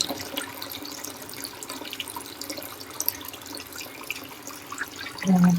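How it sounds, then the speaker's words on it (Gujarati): Water sloshes and trickles in a pot as urad dal (black gram lentils) is rinsed by hand, fairly quiet with small splashes throughout. "તો આપણે અડદની દાળી ધોવાઈ ગઈ છે આ ત્રીજા પાણીએ ધોશું"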